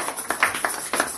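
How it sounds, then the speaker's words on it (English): Sparse, irregular claps from a church congregation at a Thanksgiving service, a handful of distinct hand strikes spaced out over about a second, fairly close and moderately loud. "Let's clap for Pastor Mrs."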